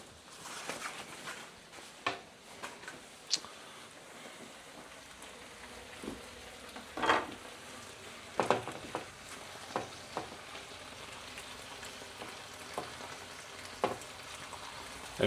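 Bacon and black pudding sizzle and crackle steadily in a frying pan, close and fairly quiet, with scattered louder pops and scrapes of stirring and no talk.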